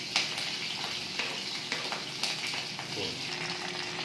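Chilies, garlic and ginger frying in a pan for soya fried rice, a steady bright sizzle with faint scattered pops and light stirring scrapes, fairly close and alone.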